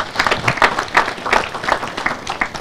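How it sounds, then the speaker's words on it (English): Audience applause fills a hall during a career innovation week event at the Cooperative University of Kenya, with steady, loud rhythmic clapping from many hands that carries on throughout without a break. "You can clap for yourself."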